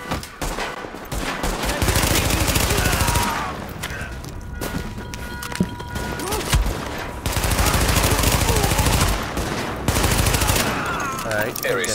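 Sustained automatic gunfire from a firefight in the video game The Division, with dense bursts of rifle fire and occasional thuds running for most of the stretch, loud and close, with game voices faintly underneath.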